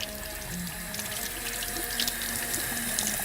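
Tap water runs steadily in a garage as a car stop-light part is rinsed, a continuous hissing splash with no talk.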